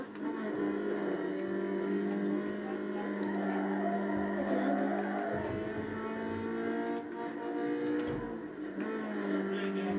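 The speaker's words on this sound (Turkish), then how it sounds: "Ben bu arabaların sesini bayılıyorum ya." Car engines in a computer racing game give off a steady, tonal droning hum that rises and dips slightly, heard faintly with occasional voice sounds mixed in.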